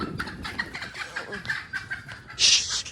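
Chickens cluck and squawk close by in short bursts, with people talking over them and a brief sharp hiss near the end.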